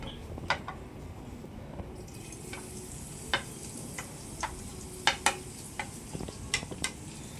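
Garlic frying in hot oil in a pan, a soft steady sizzle broken by scattered sharp clicks and pops from a utensil stirring against the pan.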